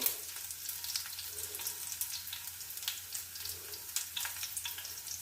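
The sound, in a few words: onion frying in a pan for fish curry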